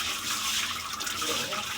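Fish being washed in water in a kitchen: continuous splashing and sloshing of water, fairly close and steady, with no talking over it.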